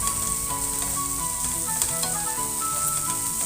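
Olive oil sizzles steadily in a pan while vegan herb pasta is prepared, a close, dense frying crackle running without a break, no one speaking.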